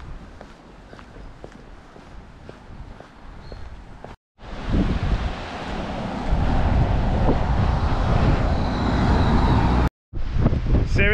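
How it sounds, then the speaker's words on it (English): Strong wind on a coastal path buffets the microphone with a loud, steady roar and rustle, rising sharply after a brief cut and staying blustery, with faint footsteps early on. "The wind's picked up quite a bit."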